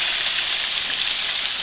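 Bang bang shrimp coated in cornstarch fry in hot oil, giving a steady, dense sizzle and crackle that stays even and close throughout with no voices.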